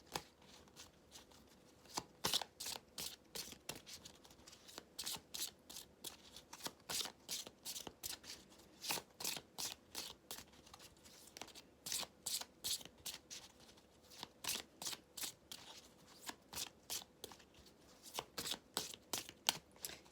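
Tarot cards being shuffled by hand in repeated quick riffling bursts, each a sharp papery flutter, steady and close for about twenty seconds with short pauses between them and no talk.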